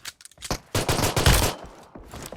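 Gunfire in PUBG Mobile, a few sharp shots followed by a dense rattling burst of automatic fire lasting about a second, close and loud, then scattered fainter shots.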